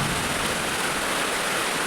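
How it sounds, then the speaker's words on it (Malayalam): Rain pours down during a sudden shower, a loud, close, unbroken wash of hiss filling the brief moment with no distinct thunderclap standing out. "ഇടിയും മഴയുടെ സൗണ്ടും മനസ്സൊന്ന് കുളിർത്ത് കേട്ടോ"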